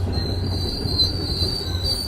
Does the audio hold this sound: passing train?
yes